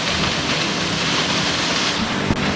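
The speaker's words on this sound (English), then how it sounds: "I believe that's Drift Creek Falls." Drift Creek Falls, a large waterfall in Siuslaw National Forest, roars as a steady, dense broadband rush that fills the whole stretch without pause and without speech.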